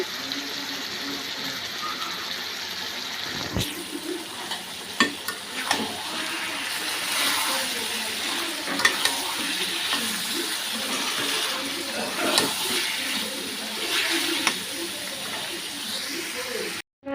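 Spice paste sautéing and being stirred in a pan for a Bangladeshi home-style curry, with a steady moderate sizzle, scraping stir strokes and occasional sharp clinks of a utensil against the pan.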